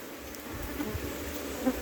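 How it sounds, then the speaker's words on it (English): Honeybees buzz steadily around a hive frame they are repairing, a close, continuous drone with a few louder passes near the listener. "Them bees and them, they're trying to repair it, boy."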